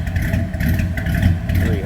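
A 1957 Chevrolet 3100 pickup street rod with a crate 350 engine, aluminum heads and an Edelbrock carburetor rumbles steadily through its exhaust, a close, continuous low throb with slight pulsing.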